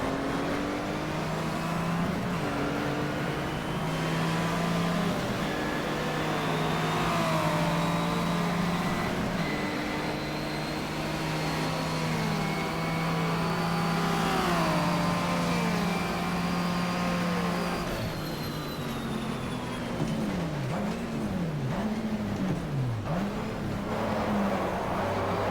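A 1980s Alfa Romeo touring car in the GTR2 racing game at Calder Park, its engine repeatedly revving up through the gears with sharp shift drops, loud and continuous, with a brief tyre squeal near the end.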